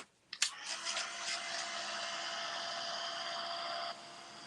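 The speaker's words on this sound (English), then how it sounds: "let's dry this part. Oh, gotta turn on my dryer first" A dryer blows a steady, loud broadband rush to dry paint on a repurposed furniture project, switching on with a brief clunk and running evenly for about three seconds before cutting off abruptly.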